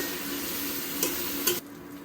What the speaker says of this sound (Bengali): ভাজির জন্য এখানে তেল পেঁয়াজ আর কাঁচামরিচ দিয়ে দিয়েছি